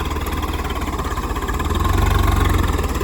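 A Swaraj tractor engine, a 744 FE or 855 FE out for ploughing, runs alone up close with a steady low diesel chug that rises slightly in pace and loudness midway through.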